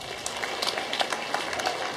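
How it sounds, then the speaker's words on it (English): Congregation clapping at a church deliverance service, a dense, steady patter of many hands with irregular sharper claps throughout, fairly close and continuous over a faint background hum. "clap for Jesus Christ"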